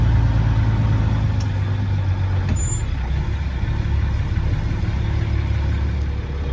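A Unimog 416 truck engine idles steadily up close, a loud, even low diesel rumble that holds throughout with only a brief faint hiss partway in.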